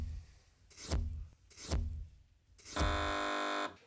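Three loud electronic quiz show buzzes, the first two short, the last held for about a second, with quiet gaps between.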